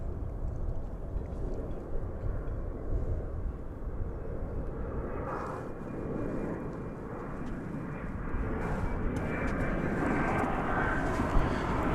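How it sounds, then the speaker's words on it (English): A Cathay Cargo Boeing 747-8 freighter inbound from Anchorage arrives at DFW Airport, its steady jet roar rumbling at a distance and swelling gradually louder toward the end, with a faint engine whine on top. "747-800 coming in from Anchorage."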